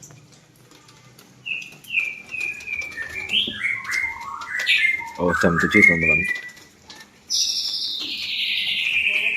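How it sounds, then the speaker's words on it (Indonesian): A white-rumped shama (murai batu), a caged songbird, sings a run of clear, varied whistles and rising and falling phrases, fairly close and loud, while someone speaks briefly over it. "Apa kalian mendengar murai batunya?"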